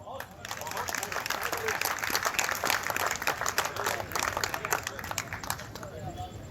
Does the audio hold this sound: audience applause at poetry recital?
yes